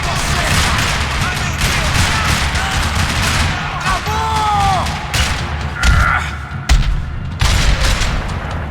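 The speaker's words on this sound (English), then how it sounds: "Another parking lot rattling with gunfire." Dense bursts of rapid gunfire and booming blasts in a parking lot in Max Payne 3 rattle almost continuously, loud and close, with a few sharp electronic tones and shouts mixed in.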